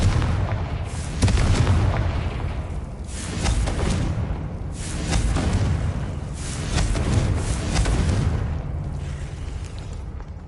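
Bombarda spell blasts in Hogwarts Legacy on PS5, a run of heavy booming explosions repeating every second or two, loud and dense with rumbling tails between bursts.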